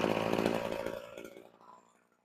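Small two-stroke brush cutter line trimmer engine running after a carburetor rebuild, a close buzzing drone that is loud at first, then fades and winds down over about two seconds with no talking.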